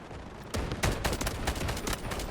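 Sniper rifle gunshots in the shooter game Delta Force, several sharp loud cracks in quick succession over a busy, noisy battle background.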